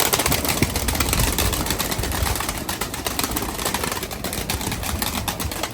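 Breeding pigeons cooing in a loft, a steady dense layer of bird calls close by with continuous background noise and no talk.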